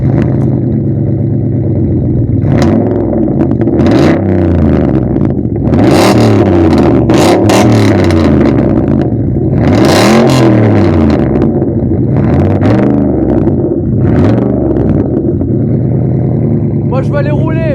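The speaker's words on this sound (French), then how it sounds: "est-ce qu'on n'écouterait pas ce bon gros V8," A Cadillac Seville STS V8 revs repeatedly, loud and close, its engine swelling and falling in a series of throaty bursts, with voices exclaiming and talking over the roar.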